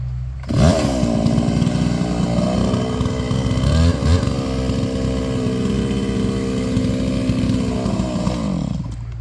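A chainsaw cuts into a tree, starting up and then running loud and near at steady high revs, with brief dips in pitch as it bites the wood, no talking.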